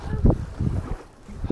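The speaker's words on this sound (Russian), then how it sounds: "Ну, ветер, очень прям ветер такой" Strong wind buffets the microphone in low, uneven gusts at a lake, with faint water sounds beneath.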